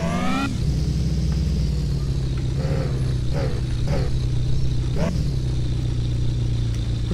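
A car engine idles in Car For Sale Simulator 2023, a steady, even low hum with a faint rattle running unbroken throughout, close and alone with no talk.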